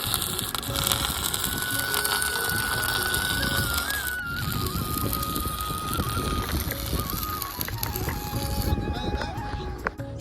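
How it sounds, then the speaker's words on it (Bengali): A grinding machine works iron rods on the steel frame of a giant Durga idol at Kamalpur, Ranaghat. It gives a steady, loud whine whose pitch drifts and dips, over constant harsh broadband noise with faint background voices. "গ্রাইডিং মেশিন দিয়ে কিন্তু ঝালাই করে দেওয়া হচ্ছে এই লোহার বড় বড় প্লেয়ার"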